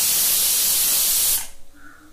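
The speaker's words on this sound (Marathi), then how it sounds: "आता झाकण लावून घेतलं आणि 4-5 शिट्ट्या होऊ दिल्या" A pressure cooker whistle blasts a loud, steady hiss of escaping steam while vegetables cook inside, cutting off sharply after about a second and a half and leaving a quiet room.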